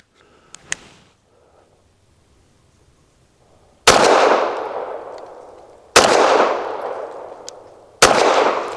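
Bersa M2XI pistol firing Winchester Defense 147 grain 9mm rounds outdoors: three loud, sharp shots spaced about two seconds apart, each with a long decaying echo, after some quiet handling clicks.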